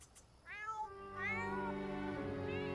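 A cat in The Sims video game meows in drawn-out, rising and falling calls, two or three close, fairly loud meows running into one another with no talk.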